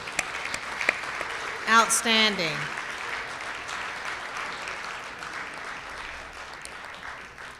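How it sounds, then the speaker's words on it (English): Audience applause at a Rotary meeting as a high school singing group leaves the stage, steady and moderate, continuing after a brief stretch of speech near the start. "Let's clap for them as they leave."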